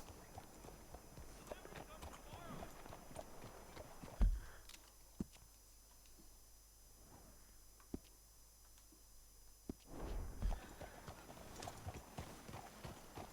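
Horse hooves clip-clop steadily in the Red Dead Redemption 2 video game, a moderately loud rhythmic trot heard under Spanish and English conversation between characters, with a brief quieter stretch in the middle.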